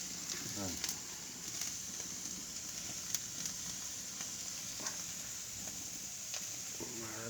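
Tandoori chicken cooking over an open fire, its juices dripping and sizzling in a steady crackling hiss with sharp pops, fairly faint and continuous throughout.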